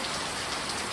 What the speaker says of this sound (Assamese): পটককৈ ইমান জোৰ বৰষুণ দিলে